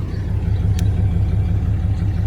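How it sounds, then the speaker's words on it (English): A diesel pickup truck with DPF filter problems idles nearby, a steady low rumbling engine note that holds evenly for a couple of seconds with no speech. "this is the way my truck sounds."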